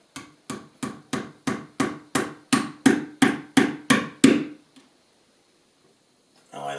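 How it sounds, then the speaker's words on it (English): A small hammer taps model railway track onto a sleeper with about a dozen light, evenly spaced strikes, then stops. "And gently hammer it in."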